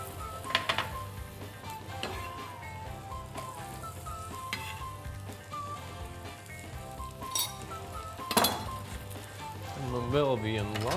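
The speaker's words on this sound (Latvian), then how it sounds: "Tas mums būs pamatā nedaudz jāapsautē, lai sīpols paliek mīksts" Finely chopped onion sautés in a pan with a steady close sizzle, under scraping stirs and the odd clink of a utensil, while a person talks over it.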